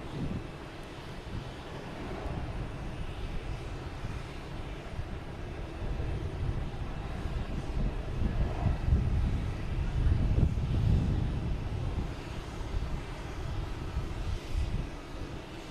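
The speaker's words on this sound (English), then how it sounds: "Next to take off, we have a Delta heading to Las Vegas. An A321neo." A Delta Airbus A321neo bound for Las Vegas takes off at Boston Logan, its engines a broad, steady roar that swells toward the middle and stays loud, with some wind buffeting on the microphone.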